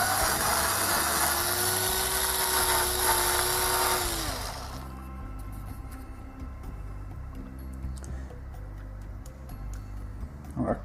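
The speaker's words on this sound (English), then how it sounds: "I could, if I wanted, just drill these halfway through." A high-pitched power drill whines loudly at close range for several seconds, drilling 13mm holes, then winds down and cuts off, leaving lower rumbling and scattered clicks.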